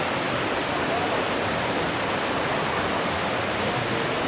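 Mila Falls waterfall on a rainy day, a steady broadband roar of falling water that stays constant and close throughout with no break or voices.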